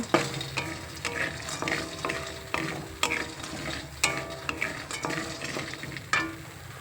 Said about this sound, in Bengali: এরপরে আমি মূলোটা ভেজে নেব।